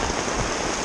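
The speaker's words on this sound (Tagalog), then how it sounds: "Ito na po yung ulan," Steady, dense rain falling on a mountain trail during a day hike, a close, even hiss with no voices.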